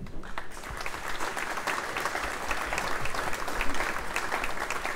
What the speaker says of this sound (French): alors il mérite vraiment nos applaudissements